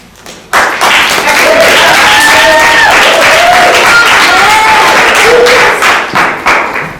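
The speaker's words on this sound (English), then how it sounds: "Let's give those actors another round of applause." An audience in a school play setting bursts into loud applause for the actors, dense clapping starting abruptly and sustained for about six seconds with a few cheers and whoops, then tapering off.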